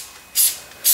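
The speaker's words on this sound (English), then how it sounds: "I'm just giving them a quick spray around with a bit of cooking spray" Two short bursts of cooking spray hiss from a can over unbaked almond bread rolls, close and loud with a brief pause between them.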